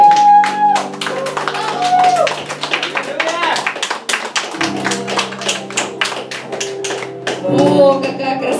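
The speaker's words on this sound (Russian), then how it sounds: "Аплодисменты." Audience applause at a church gathering in Kyshtym, Chelyabinsk region, as children are called forward: dense steady clapping with taps and thuds, continuous for several seconds, with voices and sustained tones underneath.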